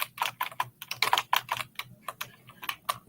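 Fingers tap rapidly and unevenly on a computer keyboard during a MakeCode Arcade game-building session, with bursts of close, crisp clicks and brief pauses and no talk over them.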